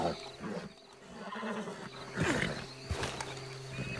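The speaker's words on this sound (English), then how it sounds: "Calm down, horsey." A horse in Red Dead Redemption 2 gives a strained whinny and snorts against faint ambient game sound, with a brief hoof clop.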